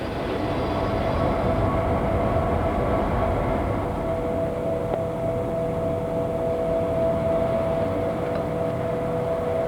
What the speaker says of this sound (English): This is the wheat coming into 2 steel rollers here, which are going to break the grain open